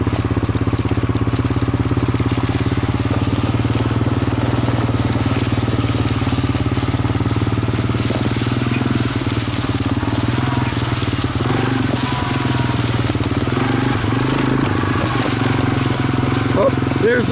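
A 1986 Honda 200SX three-wheeler engine running along a wooded dirt trail, a continuous mid-pitched motor drone with throttle swells, recorded up close with a voice partly over it.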